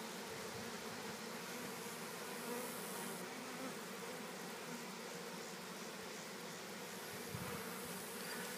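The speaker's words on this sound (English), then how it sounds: "They're fanning here in the box" A honeybee swarm fans inside a hive box during an August swarm capture, giving a steady, soft, close buzzing hum that runs unbroken throughout.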